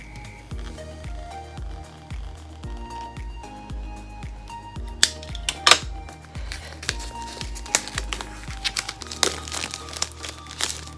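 Paper wrapping crinkles and rustles in short bursts as an Apple Magic Mouse 2 is unboxed, close and fairly quiet, with a few sharper crackles and taps in the second half and no talking.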